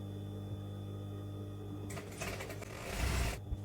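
Sewing machine stitching a hem in Ian Mankin voile, a structured sheer fabric; a quiet hum gives way to a busy whirring run of stitching partway through, heard close and alone.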